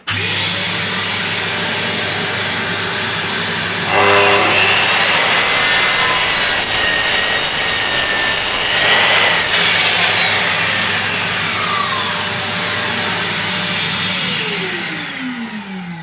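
A loud, steady vacuum-extractor drone with a power saw cutting through wood layered on top, running continuously and winding down at the end.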